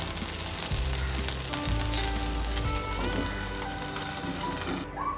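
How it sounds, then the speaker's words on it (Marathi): Poha dosa with vegetables cooks under a lid on a pan, giving a steady close sizzle and hiss with faint crackles and no talking. "आता ह्याच्यावरती झाकण ठेवून 5 ते 10 मिनिटं आपण वाफवून घेणार आहे."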